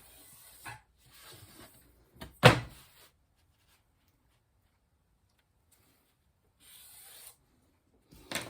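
A marker drawing lines on foam board gives short, close squeaky scratches in a few separate strokes, one louder than the rest, with quiet gaps between them.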